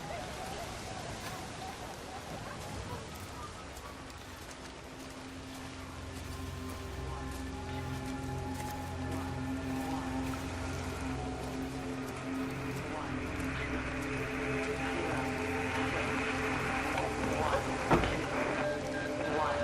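Steady rain falls in the video game Everybody's Gone to the Rapture, a continuous hiss that runs the whole time beneath layered ambient tones and music, growing slightly louder toward the end.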